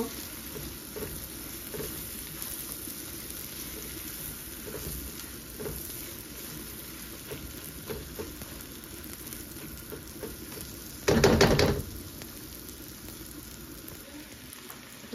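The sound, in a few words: onions frying in a pan until reddish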